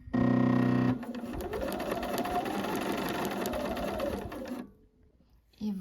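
Sewing machine stitching two fabric pieces together for a Fluffy bib, a steady continuous mechanical whir for several seconds that stops abruptly into quiet.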